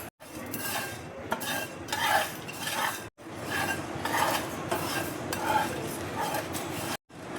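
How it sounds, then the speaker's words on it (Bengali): Spices and mustard seeds dry roasting in a pan, with steady stirring scrapes and faint crackle, close and continuous with brief pauses. "এই মশলাগুলো দেখো আমি ড্রাই রোস্ট করে নেব। মশলাটা দেখো ভাজা হয়ে এসছে, এবার আমি সর্ষে দেখো দিয়ে দিচ্ছি।"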